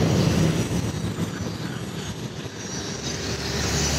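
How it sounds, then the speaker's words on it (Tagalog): An LRT light rail train roars past nearby on an elevated line over the Pasig River, a dense steady rumble with a metallic rail hiss that swells slightly toward the end. "Siyempre dumaan yung LRT yan."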